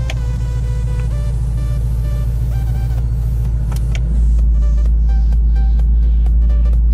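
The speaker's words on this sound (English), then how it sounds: "the active exhaust. So we're gonna take a listen here from inside the vehicle." A car's active exhaust heard from inside the cabin: a loud, steady low drone that turns heavier and deeper partway through, with a few faint clicks over the top.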